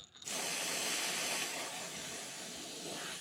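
An airbrush lays a light first coat of paint on a crankbait fishing lure, giving a steady soft hiss that starts abruptly after a brief pause and runs on alone at a fairly quiet level.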